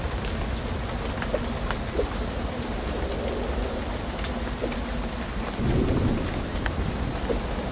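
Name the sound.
rain and thunder in video game Shadows Over Loathing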